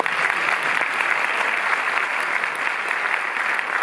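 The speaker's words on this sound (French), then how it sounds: "Vous pouvez même l'applaudir." Audience applause in a cinema presentation hall at the Cinémathèque in Paris, a steady wash of many hands clapping at moderate volume with no break.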